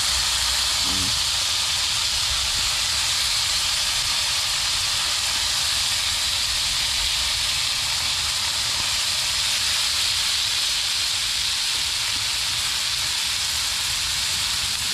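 Bitter gourd (ampalaya) sizzles in a hot pan, a steady loud hiss of frying that holds evenly throughout with no talk over it.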